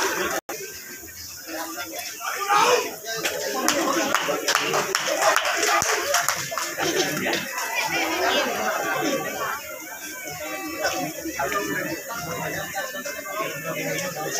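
Audience clapping at a folk-artist award ceremony in Odisha, a continuous patter of many hands running throughout, with loud chatter and a voice over a public address system on top.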